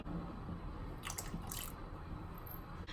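Water poured into ragi porridge (kezhvaragu koozh) as it cooks, a soft liquid trickle and splash with brief brighter bursts of pouring, close and fairly quiet, no talking.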